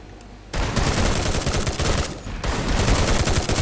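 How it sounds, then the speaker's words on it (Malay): Dense, continuous automatic gunfire from a shooting video game match, a loud crackling barrage that starts abruptly, pauses briefly and resumes at full intensity. "Kita dapat lihat itu dia tembakan dibuat oleh Ajim di situ untuk mendapatkan Syah"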